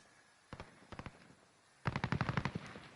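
A Stoner machine gun fires in the video game Warzone, first as a few short separate shots, then as a rapid sustained burst of about a dozen rounds, loud and close.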